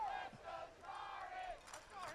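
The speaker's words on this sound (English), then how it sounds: "Jabari Henry getting fans cheering for him" Baseball crowd at a Sioux Falls Canaries vs Sioux City Explorers playoff game cheering and calling out for player Jabari Henry, a steady mid-level roar of many voices swelling and easing throughout.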